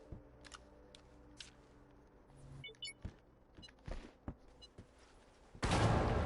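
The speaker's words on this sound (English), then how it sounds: "So you gotta use old classic explosions to nuke it." Explosion in the video game Astroneer blowing up an object, a loud broadband blast arriving near the end after scattered clicks and small mechanical noises.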